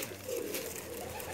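Lakha pigeons belonging to a fancier in Jeddah coo softly and continuously, close by, with a low murmuring hum and no talking.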